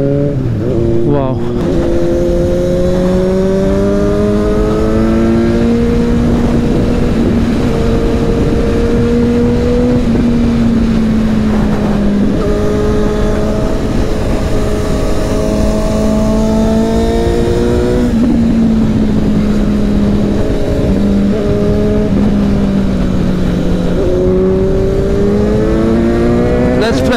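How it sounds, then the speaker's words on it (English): A Suzuki GSX-S750 motorcycle engine revs and pulls hard as the throttle opens through turns, its pitch rising and falling continuously and loudly up close, with strong wind rush throughout. "look at the kind of throttle you can open in the turns"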